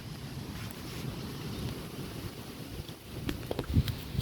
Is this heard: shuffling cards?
no